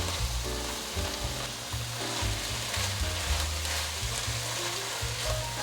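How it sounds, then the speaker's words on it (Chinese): Vegetable filling with seasoning is stir-fried in a pan, a loud steady sizzle running throughout with the scrape and toss of stirring mixed in close by. "快速翻炒，把调味料炒匀，让调味料融合在所有的蔬菜里面。"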